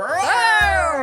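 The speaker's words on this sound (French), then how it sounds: "Quand elle nous voit, elle fait miaou" A cat lets out one long, drawn-out meow, loud and close, its pitch bending upward then easing down as it trails off.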